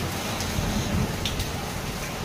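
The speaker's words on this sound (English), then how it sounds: "sweet raining with thunder sound and hailstones." Steady rain pattering on surfaces during a hailstorm, a dense, even hiss with a few sharper impacts from drops or hailstones, heard close and alone without voices.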